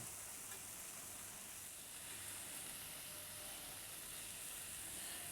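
Mahi mahi fillet sizzles in a hot pan, a faint, steady hiss and crackle of frying that continues without a break.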